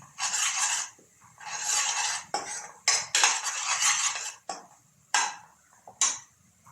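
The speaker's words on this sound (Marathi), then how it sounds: "टाकायचं वाटण, लाल मसाला, हळद, धना पावडर वाटणामध्ये टाकायचं आणि चांगलं मॅश करायचं." A spice paste with red masala, turmeric and coriander powder being mashed in a vessel, heard as bursts of close, gritty scraping and rubbing separated by short pauses.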